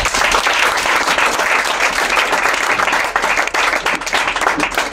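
A congregation at a prayer camp breaks into sustained, loud applause, dense clapping filling the space evenly for several seconds.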